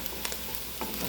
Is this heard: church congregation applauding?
no